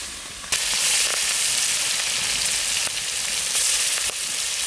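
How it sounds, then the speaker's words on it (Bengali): Pieces of rohu fish fry in hot oil with a loud, continuous close-up sizzle that surges when more fish goes into the pan. "মাছগুলো এবার আমি ভেজে নিচ্ছি।"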